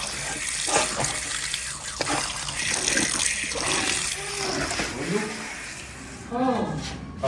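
A kitchen tap runs into a sink as fenugreek leaves and potatoes are washed, steady splashing close by with brief pauses and a renewed gush near the end, while people talk over it.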